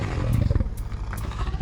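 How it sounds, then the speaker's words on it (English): A lion gives a deep, rumbling roar, one sustained bellow that swells and fades over a second and a half, heavy in the low end and close. "Again he heard the roar."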